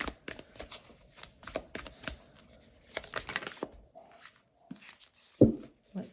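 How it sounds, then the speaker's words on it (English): Tarot cards being shuffled and pulled from a deck in a quiet room, soft riffling and flicking in quick bursts, then a few separate card slaps and one sharper tap near the end, no voices. "So let me pull a few cards on that."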